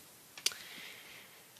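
A single soft computer mouse click, brief and close, followed by quiet room tone.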